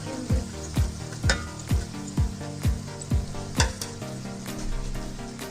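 Shredded cabbage meets hot oil in a pan for vegetable rice, and a loud, close sizzle runs under a steady rhythm of about a dozen sharp clacks of a utensil against the pan.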